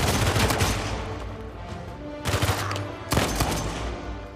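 Gunfire in the video game Uncharted 4 during a headshot-heavy fight: loud close bursts of shots, several dense volleys separated by brief lulls, no talking.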